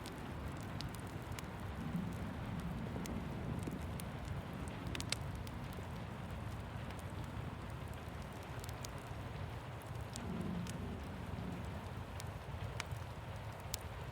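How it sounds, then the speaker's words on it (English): Steady rain falls on a cabin roof, an even hiss scattered with small sharp taps and drips that continues without a break. "The sound of rain on the roof is steady like a soft, soothing drumbeat"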